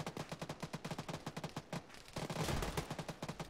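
Rapid automatic anti-aircraft gunfire in the military shooter ARMA 3, a stuttering burst of shots, then a heavier sustained blast of noise, then more quick reports, fairly distant.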